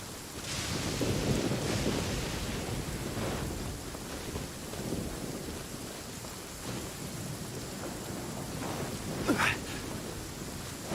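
Rain pours steadily across a stormy scene in Genshin Impact, and several rumbles of thunder roll through it, with a sharper crack near the end, all heard without talk.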